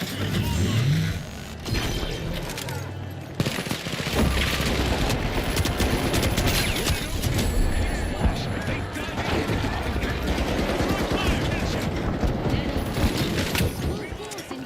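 Sustained automatic gunfire and chaotic combat noise in the video game The Finals on the Galaxy Estates map, dense and loud throughout with crashes and mechanical clatter, while voices talk over the action.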